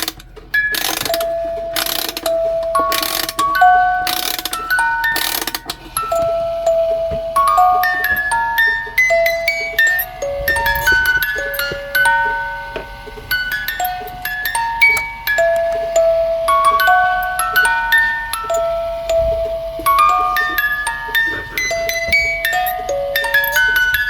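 A wind-up music box from a miniature 1970s camper project clicks through several loud winding turns, then plinks out a bright, tinkling melody of single notes that carries on steadily and up close.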